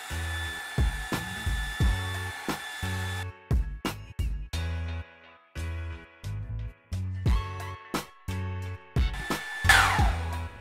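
A hair dryer blowing close up while hair is being straightened after an alisante cream, switching on and off in repeated bursts with steady loud airflow and brief gaps between them.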